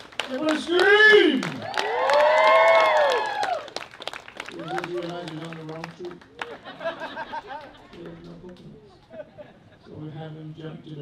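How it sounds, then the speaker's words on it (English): A crowd at a Samoan cultural show in Hawaii screams and cheers loudly for a few seconds, then the noise subsides as someone talks over scattered crowd murmur. "Everybody scream!"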